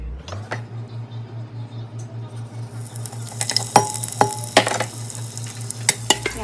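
Chopped onions and other ingredients go into hot oil in a home kitchen, with a steady low hum at first, then a broad crackling sizzle and sharp clinks of a utensil against the pan from about three seconds on.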